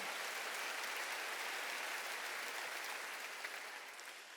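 Congregation applauding in a church during a Wednesday worship service, a dense, steady wash of clapping that fills the whole stretch and eases off slightly near the end.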